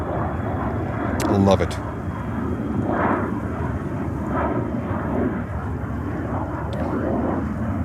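An airliner at JFK Airport in New York gives off a steady, fairly loud jet roar that fills the scene, while a person speaks briefly over it.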